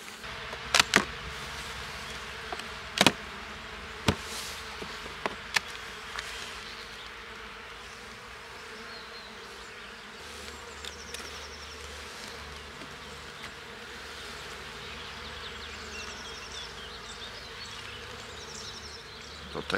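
Honeybees returning to the hive buzz in a soft, continuous hum, with a few individual bees zipping close past the microphone now and then against a quiet outdoor backdrop.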